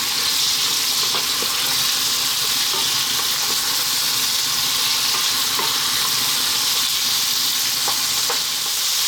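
Chicken breast fries on high heat in a curry pan, giving a steady, dense sizzle with scattered small pops throughout, close and continuous without talk.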